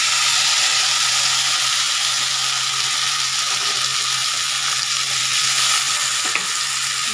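Onions for a fish curry fry in a pan with a loud, continuous close sizzle and a few faint stirring scrapes; no speech.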